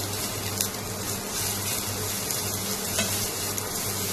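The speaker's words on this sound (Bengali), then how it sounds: "পেঁয়াজ কুচনো দিয়ে দিলাম এতে। হালকা একটু নাড়াচাড়া করে নিচ্ছি" Finely chopped onion sizzles steadily in hot oil while being gently stirred for a tilapia curry, a continuous close frying hiss with soft scraping movements and no talking.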